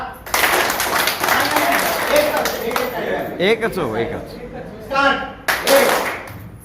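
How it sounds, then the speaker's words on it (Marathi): A group of senior citizens at a Women's Day event claps hands loudly in a sustained burst, with voices talking and calling out over the clapping, then a brief pause and another burst. "हात एक जोरात टाळी वाजवायची"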